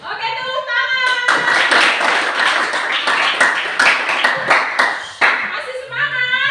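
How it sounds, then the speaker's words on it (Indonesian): A classroom of children claps together in a brisk, sustained burst of fairly loud, dense hand claps, with a teacher's voice speaking before and after. "Oke, tepuk tangan."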